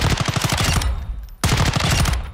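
Suppressed MCX Rattler firing .300 Blackout in Call of Duty Modern Warfare, a loud rapid burst of muffled shots, a brief pause, then another sustained burst, close and alone.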